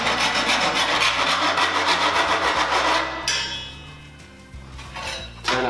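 Rough rasping and scraping as the cut edges of 4 mm cable tray are deburred. Steady strokes come first, then a quieter pause, then a few more scrapes and a metallic clink.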